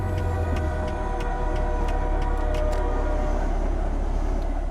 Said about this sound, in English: I think that train was floating.